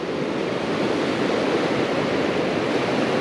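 Calm ocean waves wash onto a beach during a razor clam dig, a steady, dense hiss of surf without wind or voices, close and fairly loud throughout.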